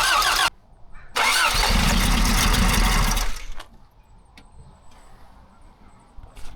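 1984 Toyota AE86 Corolla coupe engine, a rescued car with no real carburetor setup, cranks in a short burst, pauses, then cranks loudly for about two seconds before cutting out into quiet clicks, close and alone.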